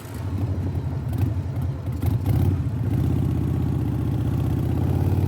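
A motorcycle engine runs while riding, a loud low rumble with rapid popping pulses that settles into a steady throb, heard close with no talking.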